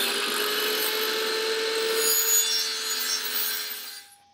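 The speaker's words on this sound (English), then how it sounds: "I'm just going to use a circular saw and do some freehand cuts" A circular saw cuts freehand through wood with a steady, loud, high-pitched whine. It runs continuously for about four seconds, then winds down and stops.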